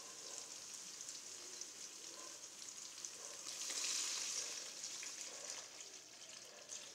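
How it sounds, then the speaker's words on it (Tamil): Water poured into a pan of sautéed onions and tomatoes for vermicelli upma, giving a steady hissing sizzle that swells briefly in the middle; faint and close. "இப்போ நம்ம சேமியாவுக்கு அளவாக தண்ணி ஊற்றுறோம்."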